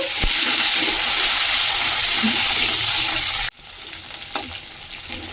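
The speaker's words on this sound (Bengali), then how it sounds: "দুটো মূলোটাকে আমি ভেজে নিচ্ছি" Two radishes fry in a pan for a Bengali katla and tangra fish curry, a loud, close, hissing sizzle that drops abruptly partway through to a quieter crackle with faint stirring.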